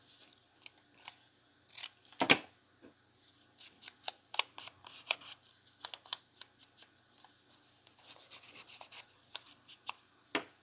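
Scissors snipping through paper scraps close up, a series of short, crisp cuts in irregular bursts with quiet rustling pauses between them.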